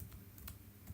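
Quiet keystrokes on a computer keyboard while a formula is entered in Excel, a few soft, scattered clicks with a sharper press in the middle, as if hitting Enter.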